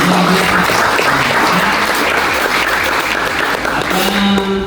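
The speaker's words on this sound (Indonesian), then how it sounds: "Tepuk tangan." Loud, sustained applause fills a hall as an audience at a disability advocacy and education event at a Jakarta theological college claps for a musician, a dense unbroken roar with a few voices underneath.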